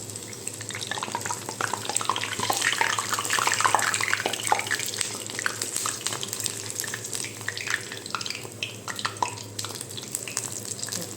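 Kerala-style banana fritters (pazham pori) fry in hot oil on a gas stove, giving a continuous close sizzle dense with fine crackles and pops, rising and easing slightly, with no talking.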